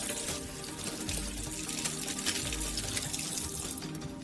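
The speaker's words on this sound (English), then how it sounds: "Then the electrodes are simply rinsed with water." Reusable ECG electrodes are rinsed under a running tap, a steady splashing stream of water falling into a sink, continuous and fairly close for several seconds.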